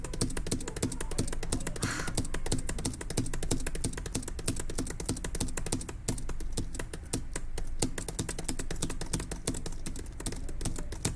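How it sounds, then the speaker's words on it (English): Rapid, continuous typing on a computer keyboard, dense clicky keystrokes in an uneven rhythm, close and fairly loud throughout, with no talking. "How loud is my keyboard in the stream?"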